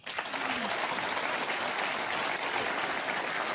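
Crowd applause at a snooker final, sustained steady clapping from a large arena audience that starts abruptly and holds at an even level throughout, with a faint voice briefly audible near the start.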